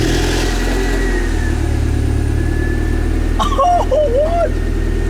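Mazda Miata engine running and revving loudly up close, a steady low drone with a rising pitch sweep near the end, with a short exclamation from a voice over it.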